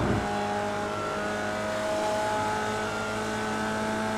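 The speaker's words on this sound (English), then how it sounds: "braking briefly, back on the throttle nice and early" Formula Vee race car in the iRacing sim at Laguna Seca, its engine droning steadily and loud throughout with a brief braking lift near the start before the throttle comes back on, no talking.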